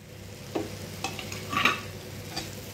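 Okra being stirred into frying tomatoes in a pan for a Chhattisgarh-style besan kadhi dish: a few soft scraping stirs and light sizzles, close and quiet, with no talking.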